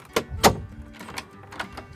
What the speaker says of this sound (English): Now I like to close the door from both angles.